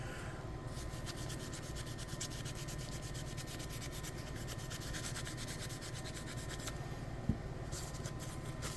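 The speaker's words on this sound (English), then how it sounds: "get the rust off, kind of treat it with some oil" Steady continuous scrubbing on the rusty motor of a Deltaforce 29 twin RC boat that sank in salt water, a constant close rasping rub with no pauses and one faint click near the end, no voices.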